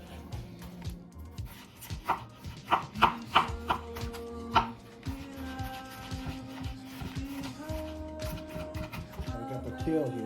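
Garlic being finely chopped on a board for Caldo Verde soup: quick bursts of knife taps, close and clear, then tonal background music underneath with the chopping fading.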